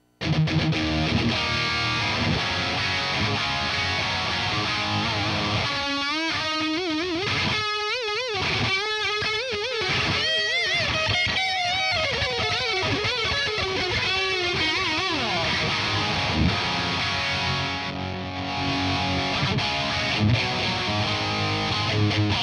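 An electric guitar with heavy distortion played through a Mesa cabinet: thick sustained chords, then a busy stretch of fast riffs and bends, loud and continuous with no talking.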